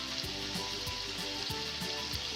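Chicken frying in a pan with vinegar and soy sauce for chicken macaroni, giving a steady close hiss of sizzling oil with soft, regularly repeating stirring thumps.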